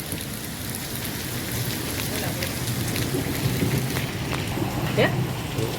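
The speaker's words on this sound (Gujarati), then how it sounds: "વરસાદ છે ને એ દેખાડું છું." Heavy rain pours steadily across a home courtyard during a stormy downpour with hail in Bagasara, a dense continuous hiss close by with scattered drop impacts, and faint voices in the background.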